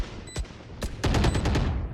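Bursts of gunfire ring out in a Valorant match: a single crack, a second shot, then a rapid volley of several shots, moderately loud and sharp with short gaps between them.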